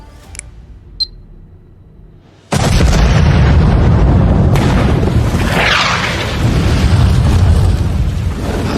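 A car bomb goes off in an action film: after a quiet stretch with a couple of faint clicks, a sudden massive blast hits and a loud, dense rumble of fire and debris roars on without fading.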